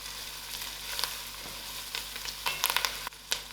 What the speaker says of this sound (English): Now I'm ready to add my masalas. My chili powder, garam jeera powder and dhania powder.